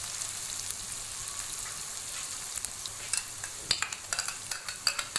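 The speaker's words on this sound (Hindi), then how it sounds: "इसको इतना फ्राई करेंगे कि खुशबू आने लगे गरम मसाले की अच्छी सी।" Whole spices and chilies frying in oil in a pan, a steady close sizzle with crackling pops that grow sharper and more frequent toward the end.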